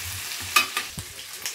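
Chicken with bay leaf stirred in a frying pan, giving a brief quiet sizzle with a few sharp scrapes and clicks of the utensil.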